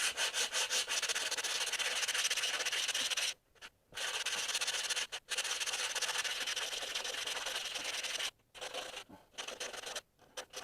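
Steady rasping strokes of sandpaper rubbed over wood, done indoors on a bed, close and continuous with a few brief pauses between passes.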